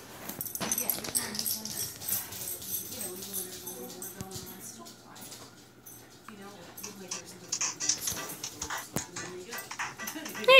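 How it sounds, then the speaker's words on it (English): A dog barks and yips in the Mail Boy Adventure video game, short close bursts scattered over busy game sounds and music, with someone speaking at points throughout. "Oh no, here comes the dog!"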